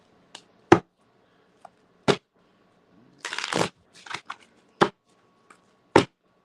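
Playing cards are shuffled and bridged in short crisp bursts: several sharp snaps spaced about a second apart, with a longer riffle flutter in the middle, close and clear in an otherwise quiet room without speech.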